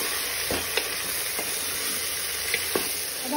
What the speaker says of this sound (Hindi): अपने मटन को इसे थोड़ा सा खुला भूनने देंगे